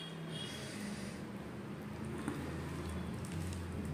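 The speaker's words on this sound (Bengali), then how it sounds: "বৃষ্টি হয়েই যাচ্ছে।" Steady rain falls outdoors as a dense, even patter with no voices and a faint low hum underneath.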